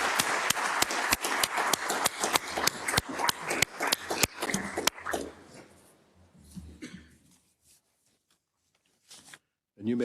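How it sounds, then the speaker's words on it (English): A small audience at a legislative session claps in a quick burst of sharp, scattered hand claps that thins out and fades to near silence, with a voice briefly heard afterward. "I'm going to ask everyone to give Mr. Pertikakis an applause"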